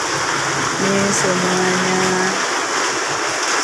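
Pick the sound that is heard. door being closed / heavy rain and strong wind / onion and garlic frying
heavy rain and strong wind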